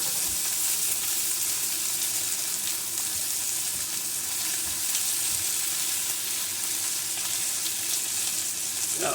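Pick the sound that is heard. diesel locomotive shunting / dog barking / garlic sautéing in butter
garlic sautéing in butter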